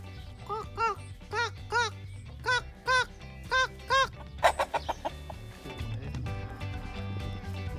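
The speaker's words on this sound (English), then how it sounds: "Here we have some chickens." Several chickens cluck in a rapid series of bright, repeated calls close by along the Camino de Santiago, then a burst of squawking gives way to a steady background murmur.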